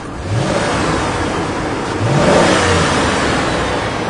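Car engine with a P0171/P0174 lean fault revving hard up to the rev limiter, a loud, close, sustained roar that climbs twice in pitch and holds near the limit, with no voices.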